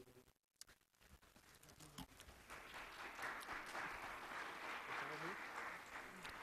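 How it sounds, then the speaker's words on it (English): Applause in a legislative assembly chamber during a mock session swells from quiet rustling into steady clapping of a sizeable crowd, fairly distant and soft, continuing evenly to the end. "Please hold your applause until the end of the proceedings."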